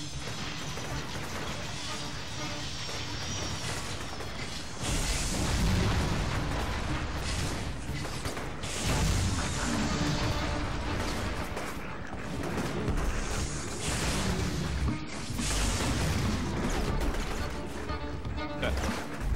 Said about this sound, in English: There's a lot of explosions going around.